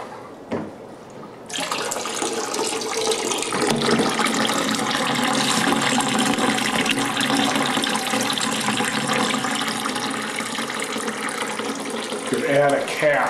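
Water siphoned through aquarium airline tubing into an overflow bin for a DIY hang-on-back overflow, starting abruptly as a loud, steady rushing and gurgling flow that continues without pause.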